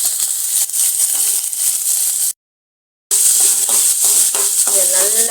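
About 200 grams of ginger sautés on a low flame in a pan for mutton kuzhambu, a steady close sizzle with stirring scrapes, broken by a brief silent gap before the frying resumes.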